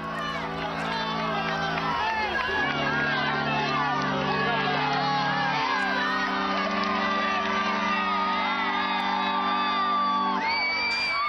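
A large crowd in Saint Peter's Square, Rome, cheers and whoops for Pope Francis at a general audience, a dense continuous roar of voices with shouts rising throughout.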